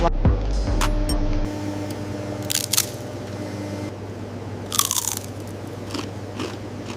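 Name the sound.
potato chip crunching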